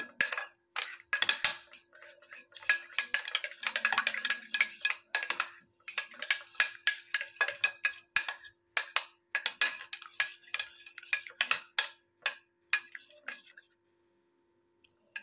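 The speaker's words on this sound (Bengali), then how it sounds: "তারপরে ডিমটা ফাটিয়ে দেব। দিয়ে ভালো করে গুলে নেব।" Egg being beaten with a utensil in a bowl, a rapid series of light clicking, tapping strokes close up that run steadily for about thirteen seconds before stopping.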